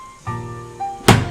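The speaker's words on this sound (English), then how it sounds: "A bed thumping stick." A stick thumps once, heavily, onto a hotel bed, a dull close impact following a couple of softer knocks.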